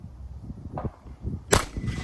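A shotgun fired at clay targets on a range: one sharp, loud blast stands out, with a softer pop heard earlier.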